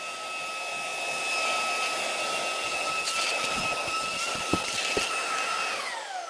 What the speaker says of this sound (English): using the Shark Wandvac as a handheld, it did remove the rest of the white creatine powder from the black carpet